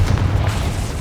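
Confringo blasting spell going off in Hogwarts Legacy, a dense low boom that rumbles steadily through the whole short moment without a sharp attack, loud and close under a muddy game mix.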